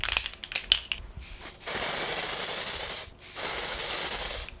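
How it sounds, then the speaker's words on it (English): Dior Airflash Radiance Mist setting spray is misted onto a face: a quick run of sharp mechanical clicks, then two long, loud, close hissing spray bursts separated by a short pause. "there is the Dior Radiance Mist sprayed on this half of my face"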